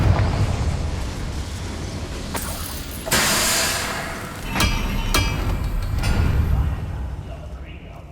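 A Confringo fire spell explodes in Hogwarts Legacy with a loud whooshing burst followed by a couple of sharp cracks. Rumbling game ambience and voices run underneath.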